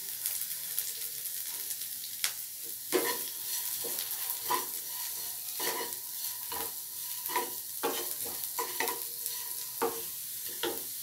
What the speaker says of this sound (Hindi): अभी मैंने गाजर डाल दिया है बारीक कटा हुआ।